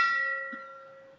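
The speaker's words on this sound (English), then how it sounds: "I didn't ring the bell." A single bell strike rings out with a clear metallic attack and a sustained tonal hum that decays slowly over a second, with no voices, likely at a temple or devotional gathering.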